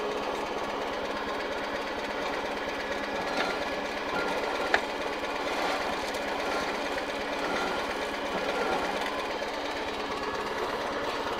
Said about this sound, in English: it turns the shaft here, which turns another cog there, and then it drops the sunflowers out